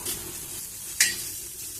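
Okra (ladies finger) frying in a pan: a steady close sizzle with a single sharp scrape of a spatula against the pan partway through, and no voices.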